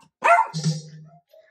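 A single dog barks up close in a house, one short sharp yelp followed by a lower drawn-out growling whine, loud and alone for about a second.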